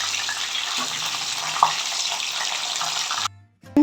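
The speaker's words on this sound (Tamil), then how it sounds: "ஷாலோ ஃப்ரை சூப்பராக இருக்குது பாருங்க" Fish shallow frying in a little oil makes a steady, dense sizzle close by, then cuts out abruptly near the end before a brief clatter.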